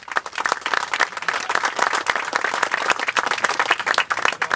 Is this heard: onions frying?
no